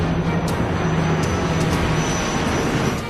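A US-Bangla airliner circles low near Kathmandu airfield, its engines a loud continuous roar with a steady tonal hum and faint periodic high-pitched ticks.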